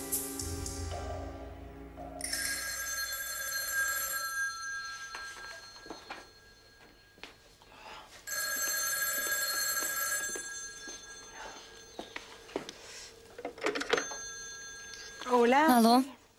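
An old hotel telephone rings in two long bursts of bright, loud trilling with a pause between them, with quiet dialogue and small room noises in the gaps and a voice at the end.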